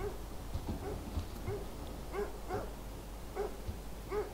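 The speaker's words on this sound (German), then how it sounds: "Da ist ein Hundi." Dog barking in the fantasy video game Of Orcs and Men, a series of short soft barks and yips repeating at irregular intervals over a low steady game ambience.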